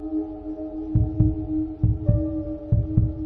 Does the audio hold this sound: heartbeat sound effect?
yes